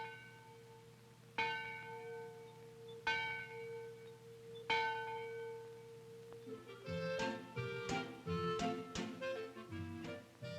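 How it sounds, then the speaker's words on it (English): Great school bell on a schoolhouse roof, rung by a rope, tolls three slow, evenly spaced strokes with long ringing decay, then breaks into a faster, busier cluster of overlapping clangs. "A rope, which hung through a hole in the ceiling, rang the great bell on the roof and called the children to classes"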